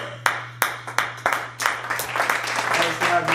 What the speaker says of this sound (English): Let's give it a round of applause for Nielsen Hiles.